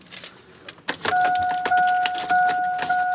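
Metal keys jangle close by, a bright clatter that sets in about a second in and carries on, with a thin steady tone under it, at a 2001 GMC Sierra pickup being checked for a crank-no-start fault.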